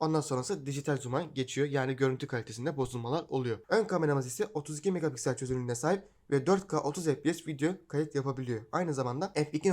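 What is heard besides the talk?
No everyday noise stands out behind the speech.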